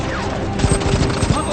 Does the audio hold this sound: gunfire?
yes